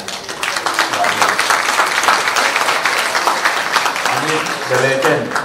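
Audience applausing tennis player Paradorn Srichaphan at an opening event in Hua Hin, a loud, dense crowd clapping that holds steady for several seconds, with some voices and cheering mixed in near the end.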